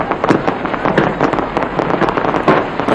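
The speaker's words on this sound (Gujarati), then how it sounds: "ઓકલેન્ડના સ્કાય ટાવર પર આતશબાજી કરાઈ અને આતશબાજી સાથે જ ન્યૂ યરને વધાવાઈ રહ્યું છે" Fireworks burst over Auckland's Sky Tower at a New Year celebration: loud, dense crackling explosions and sharp bangs in quick irregular succession, close and continuous throughout.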